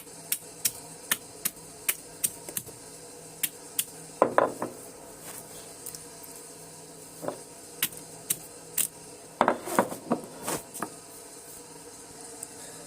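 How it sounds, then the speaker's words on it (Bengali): Garlic cloves crushed on a flat grinding stone for a Bengali bhorta, heard as sharp irregular clicks and knocks with a few short gritty crunching bursts, fairly close and alone. "রসুনগুলো বেটে নিব ভালো করে"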